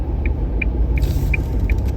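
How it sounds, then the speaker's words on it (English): Another car passes a waiting learner vehicle at a Port Lincoln intersection: a low, continuous engine and tyre rumble, a steady indicator ticking over it, and a brief hiss of passing air midway. "Got another car coming through."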